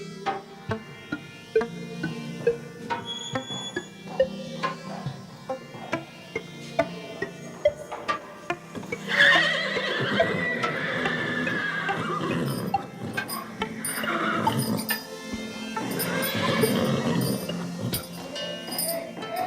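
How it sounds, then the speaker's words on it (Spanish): Lusitano horses on a breeding farm whinny and neigh while hooves clop in scattered close knocks, with a louder burst of neighing midway and faint background sounds. "Nosotros iniciamos la cría del caballo lusitano"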